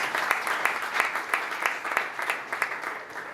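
An audience at a healthcare and biotech startup competition applauds the judges, a steady, moderately distant round of clapping with a few sharper claps standing out over the crowd.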